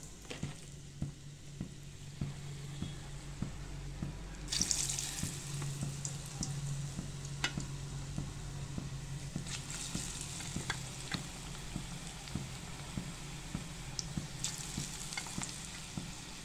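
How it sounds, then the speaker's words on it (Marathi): Battered paneer pakoras dropped into hot oil over a high flame, deep frying with a steady bubbling sizzle that swells partway through, plus faint clinks and some water running in the background. "आता हे पकोडे मी तेलामध्ये टाकणार आहे।"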